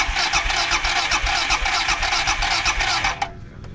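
A flooded superbike engine cranks and catches, rumbling loudly and unevenly up close for a few seconds before cutting out abruptly, with a brief click after.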